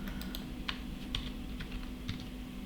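Numbers are typed on a computer keyboard, a few quiet, separate key clicks tapped irregularly over a faint steady background hum.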